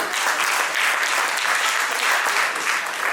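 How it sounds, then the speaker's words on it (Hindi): Audience at an engineering college alumni silver jubilee reunion evening applauds steadily, a dense, even wash of clapping from many hands with no voices over it. "इस बात में हम लोग ताली बजा सकते हैं अपने शागिर्द को"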